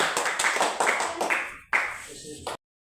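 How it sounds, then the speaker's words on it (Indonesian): A small group claps after a church group presents its candle symbol, a short burst of hand claps ending in a louder final patter, with voices mixed in underneath. "Berikan tepuk tangan"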